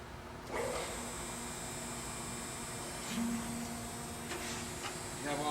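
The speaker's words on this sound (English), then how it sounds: "You can see that the spindle is running and is extremely quiet" A SHARP hydraulic surface grinder, model SH2059 and wired for 220 volts, runs with its spindle and hydraulics going: a quiet, steady electric hum and whine with a few soft mechanical clicks and shifts.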